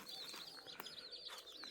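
Chickens making brief high chirping and clucking calls, faint and close together in a short burst, with no talking.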